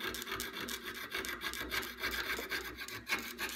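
A fine jeweler's saw blade cuts through sterling silver sheet for a necklace pendant, a steady rapid rasping of quick back-and-forth strokes, close and fairly quiet, with no voices.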